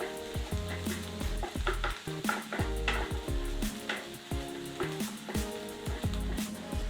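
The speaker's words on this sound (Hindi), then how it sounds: "तो हम सारी वेजिटेबल्स और एग को एक बार अच्छी तरह से मिक्स कर लेंगे।" Vegetables and egg stirred together in a hot frying pan for egg fried rice: a steady close sizzle with repeated scraping and knocking strokes of a spatula against the pan, no voices.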